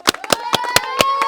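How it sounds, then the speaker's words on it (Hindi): A group of schoolchildren clap together in a quick, steady rhythm of about eight claps, nearby, while a voice speaks at the same time. "ताली बजाओ इसके लिए।"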